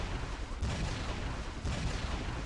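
Gunfire in the video game Vegas Crime Simulator: a dense, continuous crackle of shots and blasts filling the moment, steady and moderately loud without pauses.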